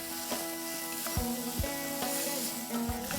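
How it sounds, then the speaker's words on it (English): Marinated mutton sautes on high flame in a pan, a steady broad sizzle with intermittent knocks of a spoon stirring against the vessel. "Let's stir this well and continue to saute for 3 to 4 minutes on absolutely high flame."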